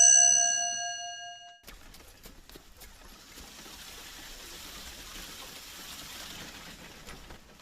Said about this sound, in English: Is that effing doorbell again?